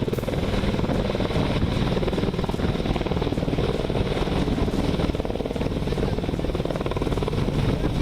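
An Apache helicopter of the Indian Air Force takes off from a forward air base, its rotor beating in a steady, loud, continuous chop throughout.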